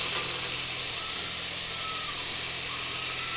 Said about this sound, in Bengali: একটু পাঁচফোড়ন বাগার দিয়েছি, পেঁয়াজ দিয়ে একটু সবজিটা একটু নেড়ে